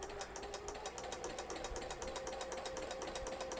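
Sewing machine stitching a blind hem stitch with a flower stitch foot, a fast, even mechanical clatter with a steady motor whine, close but quiet and alone.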